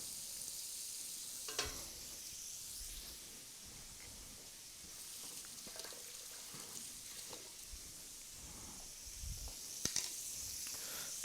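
Shrimp for pad thai fry in a hot pan, a steady close sizzle with occasional scraping and clinks as a spatula keeps them moving, no talking.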